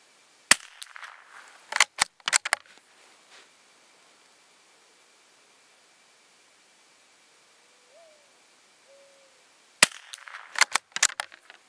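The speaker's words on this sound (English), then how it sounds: "So I'm going to shoot some SK Standard Plus ammunition" .22 rifle fired with RWS Rifle Match target velocity ammunition and SK Standard Plus: sharp, close cracks come in two clusters at the start and end, separated by a quiet stretch.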